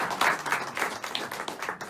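Applause from an audience at a community gathering in South Africa, a steady wash of many hands clapping close by for about two seconds, with no talk over it.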